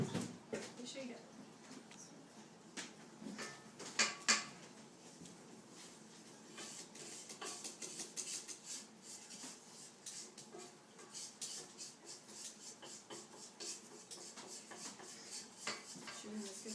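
Cake batter being divided between two baking pans, with repeated clinks and scrapes of utensils against the pans, the loudest pair of knocks near the start, heard under a continuous mix of kitchen clatter.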